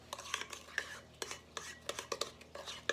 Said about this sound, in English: Just stir that till it's smooth.